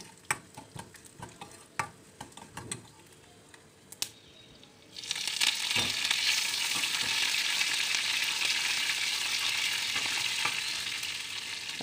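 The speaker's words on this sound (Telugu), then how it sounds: "పోపు దినుసులు అన్నీ వేసేసి బాగా వేయించేసి" Tempering spices fry in hot oil for coconut chutney: a few scattered crackles and taps at first, then a loud, steady sizzle takes over for the rest.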